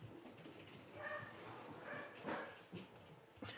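A dog whimpering and giving short barks indoors, high whines rising and falling between brief yips, moderately close, with a person's voice faintly audible underneath.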